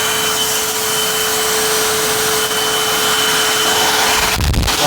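A Eureka self-propelled upright vacuum cleaner runs with a steady, loud motor whine and airflow rush throughout, ending in a brief burst of low thumping as it is handled.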